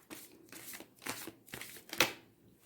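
A deck of cards being shuffled in a quiet room during a tarot-style reading, a series of soft riffling bursts roughly every half second, ending on one sharper, louder snap of cards.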